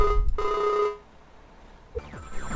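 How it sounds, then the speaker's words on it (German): A telephone bell rings loudly in two bursts, then a short pause before other electronic tones follow, with no talking over it. "Achso, Telefonklingel, Bruder."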